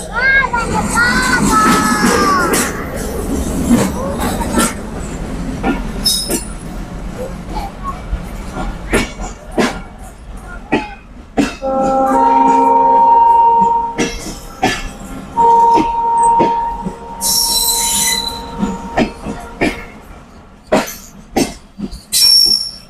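A train pulls into a busy station and its wheels squeal with long, loud metallic tones. A crowd and voices mix with scattered clatter and knocks around it, and people talk nearby.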